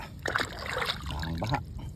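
Floodwater splashing and sloshing at close range, a steady wet churn with a few louder splashes, heard in a flooded area near a bamboo oyster post.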